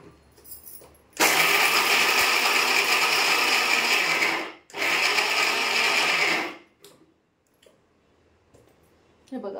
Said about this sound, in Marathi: शेंगदाणे पण घ्यायचे आपल्याला, थोडं थोडं घेऊन बारीक करूया.